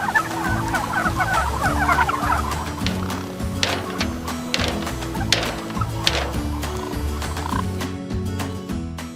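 White turkeys with bare necks gobbling and clucking in a crowded farm barn, a dense overlapping chorus of calls with repeated loud gobbles rising above the steady flock noise, continuous throughout.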